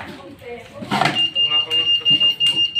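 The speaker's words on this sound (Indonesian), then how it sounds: "Maka berangkas akan membunyikan sebuah alarm" An electronic alarm on a safe goes off after the safe is forced open, sounding a high, steady piercing beep that begins partway through and continues while a person talks nearby.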